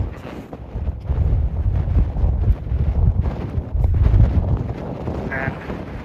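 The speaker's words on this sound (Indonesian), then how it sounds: "sini anginnya kencang banget guys" Strong wind gusts roar continuously across an open mountain trail on the way up Mount Kerinci, buffeting the microphone with loud, rumbling low-end noise throughout, with no voices heard.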